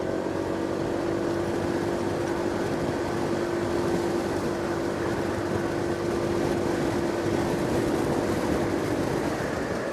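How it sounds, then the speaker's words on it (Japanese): Steady drone of a Honda ADV160 scooter's roughly 160cc engine with CVT climbing a slope under more throttle, a constant hum with a sustained tone and wind rush, smooth and unbroken throughout. "スロットルをもうちょっと上げてみます。"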